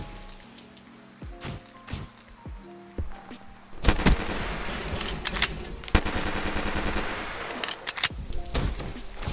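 Rapid-fire gun shooting in the video game Black Ops 3: a few isolated shots over a low ambient hum, then from about four seconds on a loud, dense, sustained automatic volley of close shots with brief gaps.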